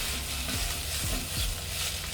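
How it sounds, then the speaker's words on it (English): Onions, garlic and beef fry in a pan for cottage pie in an outdoor garden, giving a steady close sizzle with a few soft stirring scrapes. "The onions and garlic will sweat off with the beef, adding to all that flavour."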